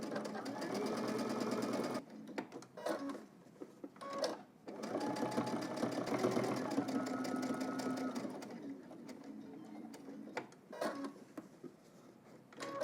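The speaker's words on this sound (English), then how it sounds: "I'm going to head to the machine. We're going to edge stitch here and then across the bottom" A domestic sewing machine edge-stitching baggy jeans runs in rapid mechanical bursts, pausing and restarting several times, close and fairly loud, with brief quiet gaps between runs.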